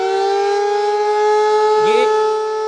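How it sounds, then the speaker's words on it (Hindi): An air-raid warning siren sounds during a civil defense mock drill, a loud steady wailing tone held throughout with a brief pitch dip near the end. "हवाई हमलों की वार्निंग देने वाले सायरन बजाए जाएंगे, जैसे इस वक्त बज भी"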